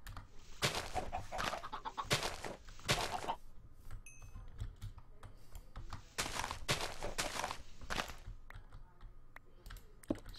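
Minecraft chickens cluck in short bursts, mixed with soft clicking like keyboard typing at a quiet level, with no talk during the sounds.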